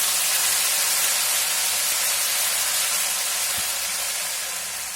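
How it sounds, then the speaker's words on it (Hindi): Ginger garlic paste, two heaped teaspoons, frying in a pan: a continuous loud sizzle and hiss that stays steady and eases off slightly toward the end. "और ये अदरक लहसुन पेस्ट है 2 टीस्पून फुल, अच्छे से फ्राई कर लीजिए।"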